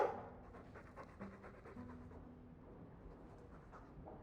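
A Mabari guard dog in Dragon Age II pants in quick, soft rhythmic breaths, faint and steady, with light background ambience and no talking.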